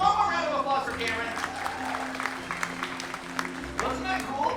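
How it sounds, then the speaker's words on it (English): An audience claps at a Disney bird show, with scattered applause throughout while a voice talks over it. "One more round of applause for Cameron."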